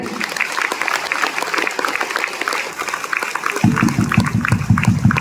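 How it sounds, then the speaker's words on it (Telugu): Loud applause from a seminar audience in Bhuvanagiri, dense and sustained, swelling stronger toward the end with a low rumble. "ఒక్కసారి గట్టిగా క్లాప్స్ కొట్టండి"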